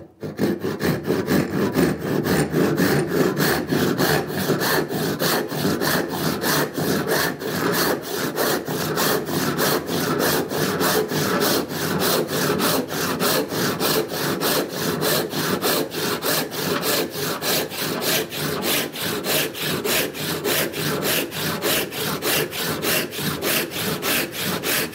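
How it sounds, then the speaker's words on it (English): A handsaw cuts a kerf into a block of wood with fast, even back-and-forth strokes, a steady rhythmic rasp that continues close and alone throughout. "And then just with a handsaw, and you might need to check that the handsaw kerf is similar sized to the plate steel that's going in there"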